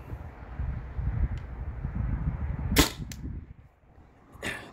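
A Byrna TCR launcher modded with a remote-line HPA tank fires 3.6-gram pink balls, giving sharp, close pops, two in quick succession and another a little later, over low wind rumble.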